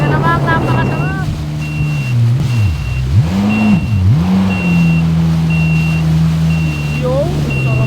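A jet ski engine revs and drones steadily on choppy water, pitch rising and falling as the throttle changes, with wind buffeting the microphone and a voice speaking briefly near the start.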